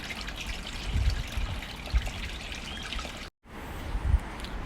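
Water trickles and splashes steadily while golden apple snails are washed by hand in a pond, a soft, close running sound with small bumps of sloshing and a brief dropout.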